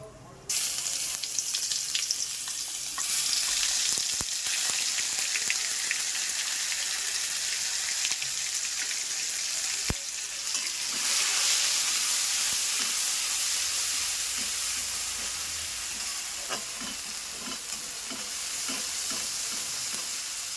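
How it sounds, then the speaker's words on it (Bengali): Cumin and a spice paste with turmeric frying in a kadai for a vegetarian jackfruit dalna, a steady close sizzle with occasional stirring scrapes and clinks, no talking. "জিরেটা যখন লাল লাল ভাজা হয়ে আসবে তখন তার মধ্যে এই মশলাটা আমি পুরোটাই দিয়ে দেব।"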